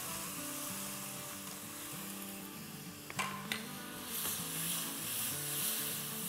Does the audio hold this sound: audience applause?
no